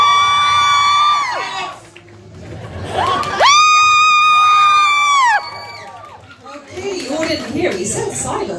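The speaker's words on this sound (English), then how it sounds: "oh, God, that's so loud." A crowd erupts in loud cheering and high-pitched screams in two big swells at an anime and manga convention competition, followed by scattered whoops and chatter.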